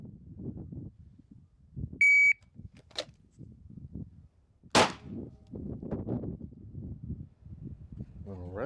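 Pistol shots fired during a timed shot timer test, led by the timer's beep, then a couple of sharp, loud cracks at close range with mumbled talk and shuffling under and around them.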